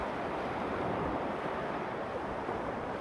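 Sea waves wash onto the shore in Occidental Mindoro, a steady broadband surf roar with some wind noise, heard close and alone with no talking over it.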